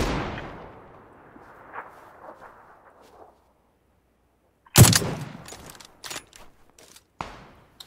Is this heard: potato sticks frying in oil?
no